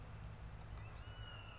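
Overly cute kittens in the Sam & Max adventure game let out a short, faint meow near the end, high rising cries over a steady low game hum.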